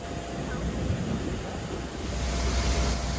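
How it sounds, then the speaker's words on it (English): TUIfly Boeing 737-800 airliner in special Rio Hotels and Resorts livery, delivered in April 2007 and bound from Munich to Greece, heard as a steady broad roar of engine noise that stays loud throughout with no talk. "this is the 737-800, which will take me to Greece"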